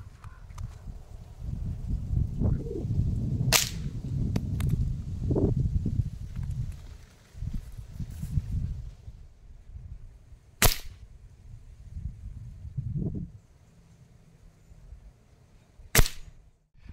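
Hatsan AirTact .177 air rifle firing pellets at a frozen Gatorade bottle outdoors: three sharp, separate cracks spaced several seconds apart, with rustling and handling noise between them and no talk.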